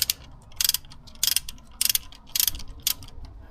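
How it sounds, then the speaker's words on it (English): A ratchet wrench turns the serpentine belt tensioner on a BMW E90 with the N52 engine, giving five or six quick bursts of rapid metallic clicking at close range, separated by short pauses. "Okay, now with the ratchet."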